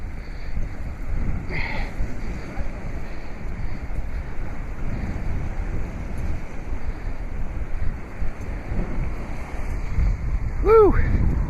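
Cold wind blows on the frozen Lake Erie shoreline, a constant loud rumbling roar buffeting the microphone, with a faint whistle-like chirp near the end.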